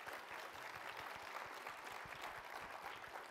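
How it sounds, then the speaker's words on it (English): Conference audience applauding a volunteer coming up on stage at a climate solutions storytelling event, a steady dense wash of many hands clapping throughout, fairly distant and even in level with no voices over it. "Round of applause, come on, that takes a lot of strength."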